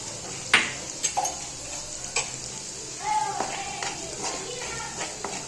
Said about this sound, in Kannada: ಲೋ ಫ್ಲೇಮಲ್ಲೇ ಇಟ್ಕೊಂಡು ಇದನ್ನ ಚೆನ್ನಾಗಿ ಫ್ರೈ ಮಾಡ್ಕೊಳ್ಳಿ.